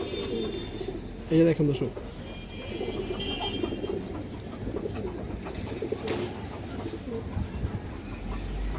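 Old-breed pigeons with purple neck bands and black tails coo steadily through the whole stretch, soft low rolling calls close by, with someone talking over them throughout.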